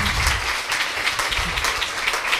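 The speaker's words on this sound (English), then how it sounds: "Let's have a round of applause for Sandy" A crowd at a Nerd Nite talk held at a farmers market applauds a presenter named Sandy, a dense, steady wash of clapping that stays loud and even throughout with no voices over it.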